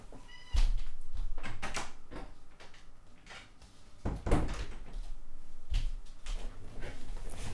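A cat jumps into a window, followed by a door opening to let it out: a few sharp knocks and bumps against a muffled indoor background, with one soft mew near the start.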